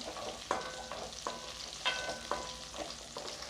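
Onions soften in oil with a sprig of curry leaves for a village-style mutton dish, a quiet close sizzle marked by a few light clinks and scrapes of stirring, with no voices.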